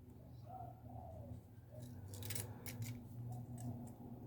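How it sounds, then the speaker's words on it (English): Scissors on a red Victorinox Swiss Army Knife Super Tinker cut with a few crisp, close snips clustered toward the middle and end, over a low steady background hum. "I really love the scissors."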